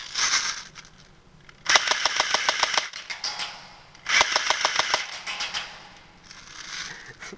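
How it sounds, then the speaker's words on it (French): Airsoft gun for adults, a Forest Gun replica, fires rapid bursts of sharp, closely spaced clicks in two clear volleys with quieter mechanical rattling between and after, close and loud with no talking. "Donc je disais que cette chose tire en rafale."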